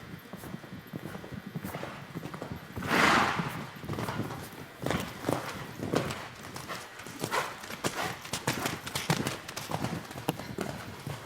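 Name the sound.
horse hooves during an equestrian medal ride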